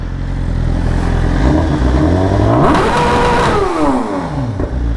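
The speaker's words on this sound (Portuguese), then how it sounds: "Agora eu vou mostrar pra vocês o escapamento com ela parada." A 2022 BMW S 1000 RR sport motorcycle with a stainless steel exhaust header revving while parked, the engine note climbing and falling in loud, close throttle blips.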